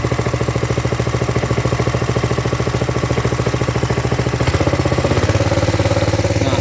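A small 5.5-horsepower petrol water pump engine runs close and loud with a steady rapid chug, then its pitch and intensity rise partway through as it revs harder.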